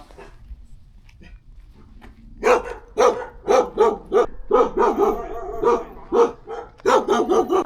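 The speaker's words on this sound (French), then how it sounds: "Bon, le chien est attaché de toute façon" A tethered dog barks repeatedly and loudly nearby on Anmyeondo island in South Korea, with about a dozen sharp barks in a steady rhythm after a quieter opening.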